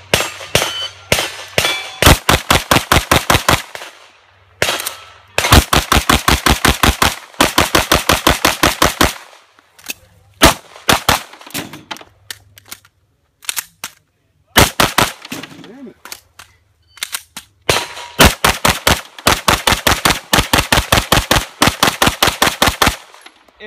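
Rapid strings of gunshots ring out at a Cowboy Action Shooting charity match, loud close cracks fired in quick bursts, separated by short pauses.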